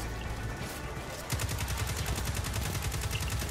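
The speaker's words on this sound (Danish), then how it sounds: "der er folk, der skyder fra alle vejen" Rapid automatic gunfire from players shooting in the video game Destiny 2. A dense, fast rattle of shots starts partway in and continues steadily at moderate loudness.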